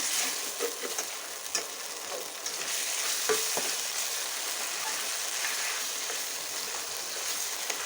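Spice paste for spinach paneer (palak paneer) frying in a pan over medium-low heat, a steady bright sizzle with occasional stirring scrapes, close and continuous throughout, no voices.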